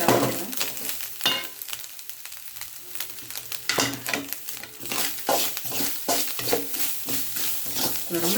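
Grated coconut sizzles in hot ghee while being stirred for a Tamil sweet, a continuous close frying hiss broken by repeated scraping strokes of the spoon against the pan.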